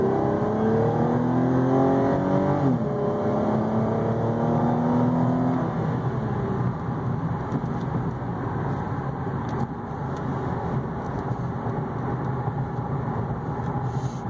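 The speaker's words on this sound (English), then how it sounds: "I'll kick it down a little bit just so you can hear what the exhaust sounds like" A 2014 Cadillac ATS RWD V6 accelerates, its exhaust drone rising steadily in pitch through the gears with loud, continuous engine tone heard from inside the car, no talk.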